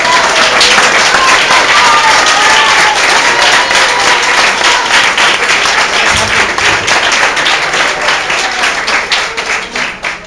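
Loud sustained applause fills a church as the congregation claps for God, a thick continuous roar of hands that thins slightly toward the end.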